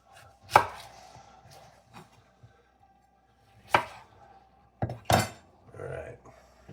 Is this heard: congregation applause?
no